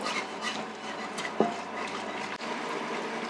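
Milk is poured a little at a time into a flour roux for chicken croquetas and whisked in, making a continuous close liquid swishing and sloshing with a faint knock, and no talking.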